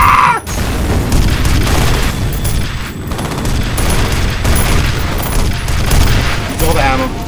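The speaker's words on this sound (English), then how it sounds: "Those are rockets!" Rocket explosions and heavy gunfire in the first-person shooter video game F.E.A.R., a dense, continuous barrage of booms and bursts that fills the whole stretch at high volume, with no pause.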